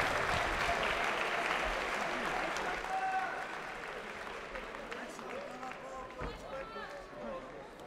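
A crowd at a combat-sports fight event applauds after a bout ends. Thick, continuous clapping starts strong, then gradually thins and fades over several seconds.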